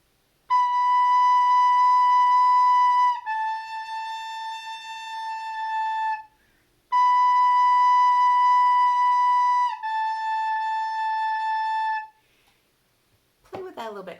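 Recorder playing its first two notes, first with one hole covered and then with two, as clear sustained tones, each held for a few seconds and repeated twice, close and alone.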